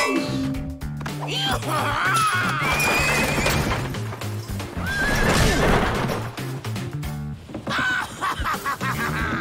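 Cartoon horses whinny loudly over hoofbeats and busy music, with repeated neighs rising and falling in a hectic chase scene.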